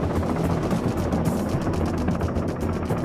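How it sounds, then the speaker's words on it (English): Steady, continuous helicopter rotor noise, a dense rapid beating thump sustained at constant loudness with no voices. "The telltale beating sound is actually a series of mini sonic booms created by the rotor"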